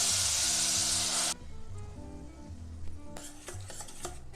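Ground papaya for papaya halwa hits leftover ghee in a pan with a loud hiss that drops to a softer sizzle, followed by stirring scrapes and light clinks of a utensil against the pan.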